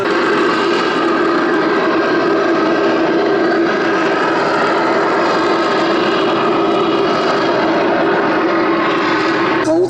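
A steady, loud drone of a Pitts S-2S aerobatic propeller plane's engine holds throughout, with no breaks or change in level, at an air show at Duxford.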